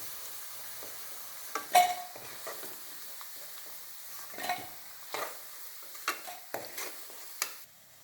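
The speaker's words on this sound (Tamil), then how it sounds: "இந்த அளவுக்கு பொறிச்சா போதும் ரொம்ப செவக்க பொறிக்க வேண்டாம்" Cauliflower florets for Gobi Manchurian deep frying in hot oil, a soft continuous sizzle broken by scattered clinks and scrapes of a slotted spoon turning and lifting pieces, close and fairly quiet, with no voices.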